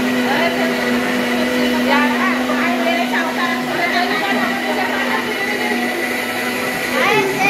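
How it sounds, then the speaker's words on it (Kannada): Two mixer grinders whir at once in a busy home kitchen during a village festival gathering, a steady loud motor drone under lively overlapping chatter of adults and children throughout. "ಎರಡು ಮಿಕ್ಸಿ ರನ್ ಆಗ್ತಿದ್ರು."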